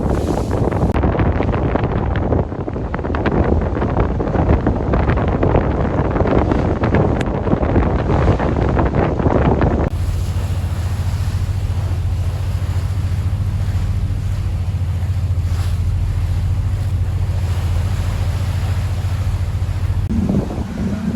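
A boat floats down the Amazon River in wind: heavy, loud wind buffeting at first, then a steadier stretch with a low, constant droning hum beneath the water and air noise.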